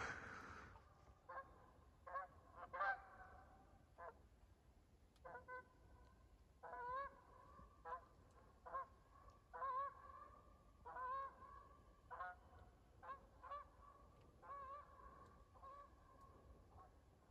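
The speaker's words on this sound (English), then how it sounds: "It's a nice first sign of spring when the Canada geese start to come back." Canada geese honk repeatedly in spring, a string of nasal calls in irregular rhythm, fairly distant and faint over quiet outdoor background.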